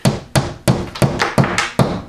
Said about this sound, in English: I put my nail in, and where I think that it is, and I'm going to hit it.